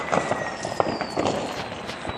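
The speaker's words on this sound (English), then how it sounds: "What was that? An explosion." New Year fireworks explode near a house fence, several sharp bangs scattered across the moment over ongoing background noise, with a person talking close by.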